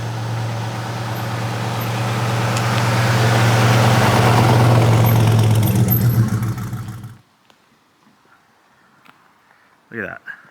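A deep, throaty LS V8 engine in a 1967 Chevrolet El Camino idles with a steady low rumble for several seconds, then cuts out, leaving near silence and a brief distant sound.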